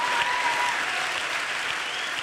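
Steady audience applause at a German spoken-word stage show, a dense continuous patter of clapping hands filling the room at even loudness for a couple of seconds with no talk over it.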